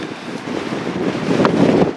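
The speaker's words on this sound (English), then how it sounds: "it's too windy to talk much now." Strong wind blows across a mountain ridge on Bogart Mountain, buffeting the microphone. It makes a loud, steady, roaring rush throughout, with gusts swelling toward the end.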